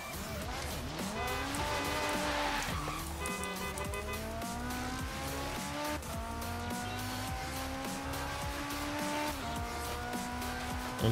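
A car in Forza Horizon 3 corners hard at around 250, engine revving loud and steady with rising and falling gear sweeps, tires squealing through the bend for the whole stretch.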